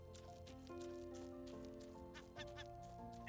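A bird squawks repeatedly in the survival video game Raft, giving harsh honking calls over a steady tonal game soundtrack, with no talking.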